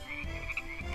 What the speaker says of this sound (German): Jetzt ist mein Ballon voller quakender Frösche.